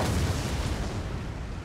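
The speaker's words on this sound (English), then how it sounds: "And the mortars are firing." Mortars firing in a Total War-style gunpowder-era battle in Empire: Total War, heard as a continuous loud rumbling roar of artillery blasts blending together, with no voices.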